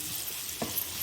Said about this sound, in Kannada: ಈಗ ಮೀಡಿಯಮ್ ಸೈಜ್ ಕಟ್ ಮಾಡಿರುವ ಒಂದು ಈರುಳ್ಳಿನ ಒಗ್ಗರಣೆಗೆ ಹಾಕ್ಕೊಳ್ತೇನೆ.